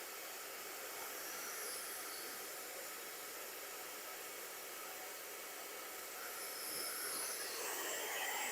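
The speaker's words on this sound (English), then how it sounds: "I think hair drying is one of the most important things of the haircut." A hair dryer blows steadily through a client's hair during a salon haircut as the fringe is dried. The airy hiss is even and continuous, fairly soft and alone, swelling slightly near the end.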